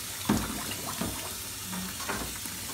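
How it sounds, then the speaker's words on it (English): Tap water runs steadily into a sink while a trumpet's slides and lead pipe are rinsed, a soft continuous wash with a few faint clinks of brass against the basin. "Okay, so while the water is still running,"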